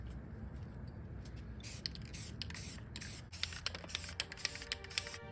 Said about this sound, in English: I got this really nice metallic gold spray paint and I went to work.